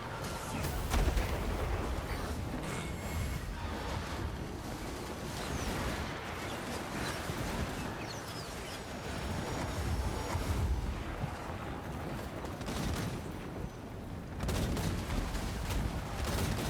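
Heavy, dense booming gunfire rolls on almost continuously from Hellblaster volley guns on a Warhammer battlefield, with overlapping blasts and a constant rumble and no clear gaps.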